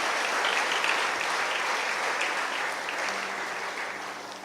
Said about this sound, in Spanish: Dale un aplauso al Señor si estás de acuerdo.